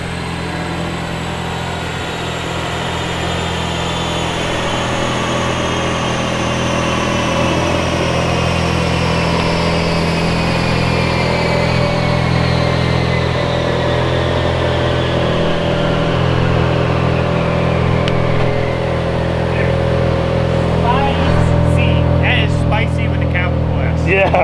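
A stock Mazda 13B rotary engine runs steadily and loudly at close range, giving a continuous buzzy drone with layered harmonics and a slight pitch drift. Near the end a few scattered clicks and knocks sound over the engine.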